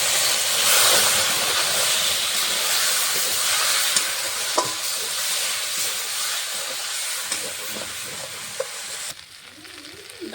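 Spices and taro frying loudly in a pan, a strong continuous sizzle and hiss with a few stirring knocks, easing off near the end.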